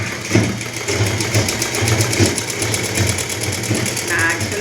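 A sewing machine runs steadily while stitching a blouse, its motor hum and rapid needle rhythm continuous and close throughout; a person speaks over it.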